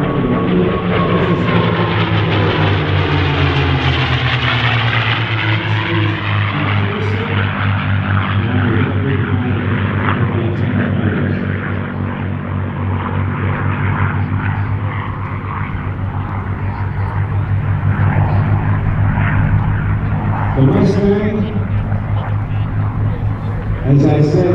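A P-51D Mustang flies overhead at an air show, its propeller engine droning loudly and building then easing as it passes, with a public-address voice talking over it.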